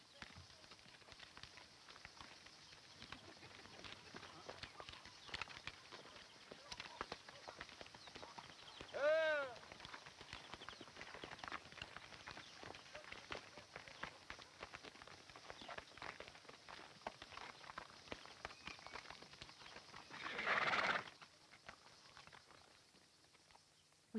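Horses and asses walk on a journey toward Argos, their hooves clip-clopping faintly and steadily for over twenty seconds under continuous background noise, with a brief louder sound twice along the way.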